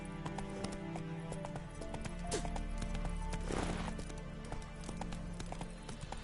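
Roach the horse gallops in The Witcher 3, a steady run of clip-clop hoofbeats under continuous game music, with a brief whinny partway through.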